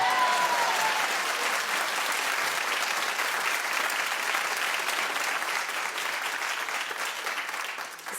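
A television talk-show studio audience claps loudly and steadily, a thick, continuous burst of applause that holds for about eight seconds before tapering slightly at the end.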